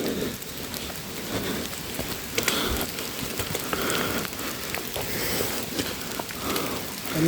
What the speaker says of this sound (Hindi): बिजली कड़क रही है और बारिश बहुत तेज़ हो चुकी है।